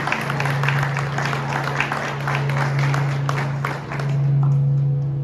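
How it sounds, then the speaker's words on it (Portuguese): A church congregation applauds steadily throughout, a dense wash of many hands clapping at a fairly loud, even level, with a low steady hum underneath and a brief dip near the end. "Você pode aplaudir ao Senhor por essa palavra?"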